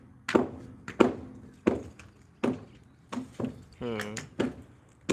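A hammer strikes concrete in a series of about eight dull, heavy thunks at an uneven pace, with a brief voiced sound midway through.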